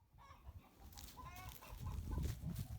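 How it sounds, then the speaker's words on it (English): About a hundred hens cluck and murmur inside a farm chicken coop in December, a soft overlapping chorus of short clucks and low chatter that grows slightly louder toward the end. "This is our chicken coop. We keep about 100 hens."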